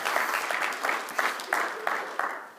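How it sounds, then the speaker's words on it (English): A church congregation breaks into a short round of applause, uneven bursts of clapping that pulse in waves over a couple of seconds before tapering off. "Give him a round of applause."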